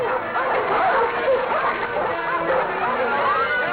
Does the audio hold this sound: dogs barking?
yes